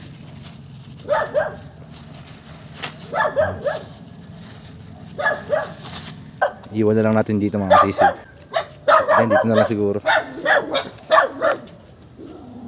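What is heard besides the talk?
dog barking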